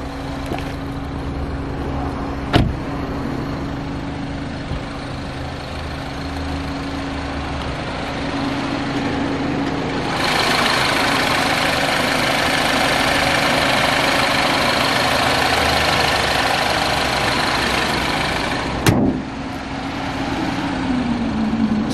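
A BMW 1 Series engine idles steadily, a low continuous hum with a brief louder stretch of whirring in the middle and a couple of sharp clicks.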